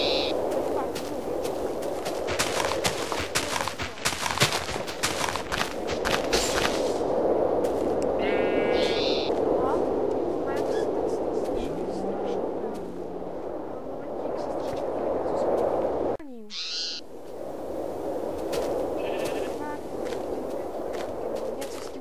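A sheep bleats in the video game Minecraft, played in the Tekkit modpack. The short nasal bleat rises briefly among clicky in-game footsteps and block sounds, moderately loud against a constant game background.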